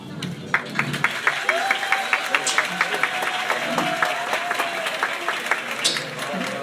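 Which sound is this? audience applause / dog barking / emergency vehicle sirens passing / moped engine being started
audience applause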